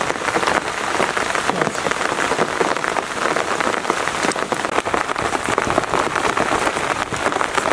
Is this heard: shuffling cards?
no